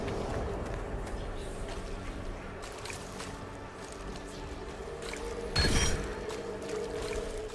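Wading through knee-deep water in the video game Dragon Age Inquisition, sloshing splashes that repeat steadily and swell into a louder surge partway through, with no talk.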